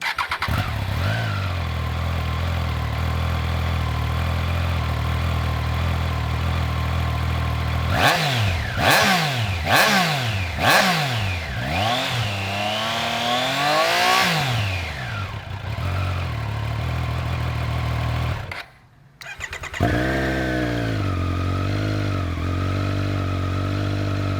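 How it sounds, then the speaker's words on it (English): A Triumph Trident 660 and Triumph Street Triple idle, then rev hard in several rising and falling bursts, loud and close outside a shop, with a brief cut-out before settling back to idle. "here's both of them revving up outside the shop here"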